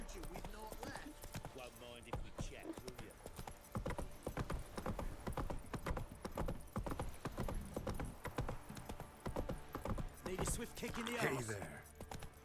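In The Witcher 3, the horse Roach gallops with a continuous rhythmic clip-clop of hooves, loud and close throughout, with someone talking over part of it.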